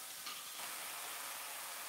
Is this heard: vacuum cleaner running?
no